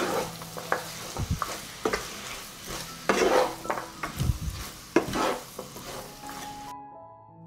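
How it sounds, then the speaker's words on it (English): Onions, carrots and meat stir-frying in heated olive oil, a continuous sizzle broken by scraping stirs and a few clacks of a utensil against the pan, close and moderately loud. "I add onions and carrots to the heated olive oil. I add meat. I will stir and fry everything together for 15 minutes."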